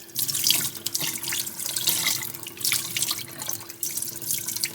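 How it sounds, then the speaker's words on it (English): Tap water runs steadily into a sink over a piece of stencil-etched glass, a close, continuous splashing rush with uneven surges. "Now, if you turn that water on for me, I just need the regular water over it."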